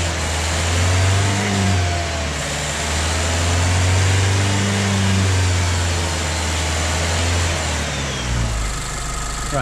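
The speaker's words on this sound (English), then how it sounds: "the radiator fan has come on now" A Dacia Duster Mk1 1.2 petrol engine idles up close while its radiator cooling fan runs, giving a steady, loud, continuous hum and whir with no talking.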